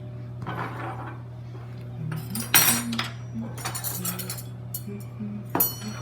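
Plates and cutlery being laid on a table in a kitchen: scattered close clinks and clatters of dishes and metal utensils, with sharper bursts of ringing contact now and then over a steady low background hum.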